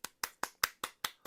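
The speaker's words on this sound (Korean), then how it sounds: "박수." Seven sharp, evenly spaced hand claps ring out in quick succession, loud and close, with no talking, marking the start of the Hebrew year 5786 at a Rosh Chodesh Tishrei new-month observance.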